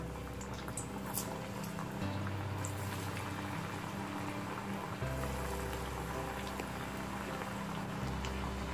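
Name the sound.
vada frying in hot oil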